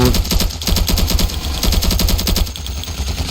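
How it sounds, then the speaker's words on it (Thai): Dense automatic gunfire in Ravenfield, rapid continuous bursts of many shots sprayed nonstop, loud and heavy throughout, with only a slight easing near the end. "ยิงยิงยิง สาดกระสุนมั่วบ้าเลย"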